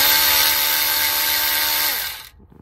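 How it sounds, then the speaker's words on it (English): An electric ratchet whirs loudly and continuously at close range while backing out engine mount bolts on a Mazda, then stops abruptly, leaving faint shuffling sounds. "get my ratchet, my electrical one, to remove those just barely"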